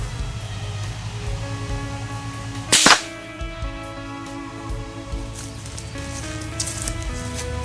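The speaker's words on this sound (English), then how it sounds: "we're going to shoot the Rossi RS-22 with Blazer 22 round nosed ammunition" A Rossi RS-22 rifle fires a Blazer .22 round-nose round into drywall: one sharp, fairly quiet crack rising out of a steady background hum, followed by faint small ticks.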